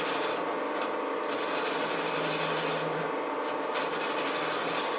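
A wood lathe spins a shop stool while a cutting tool rounds over the bottom edge, giving a steady, continuous scraping whir close by that holds even from start to finish, with no talking.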